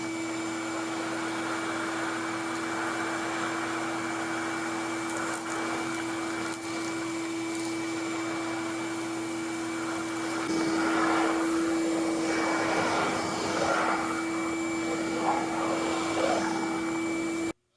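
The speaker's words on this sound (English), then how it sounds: "We're going to start out with the floor attachment because I have sawdust all over my shop floor" A RIDGID wet/dry shop vacuum with a floor attachment drones steadily with a strong tonal hum, then turns rougher and louder as it pulls sawdust off a shop floor, rattling and hissing through the hose.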